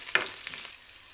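Curry leaves and a pinch of turmeric sizzle in hot oil for a tempering, with a sharp crackle at the start, then a softer, steady frying hiss close by.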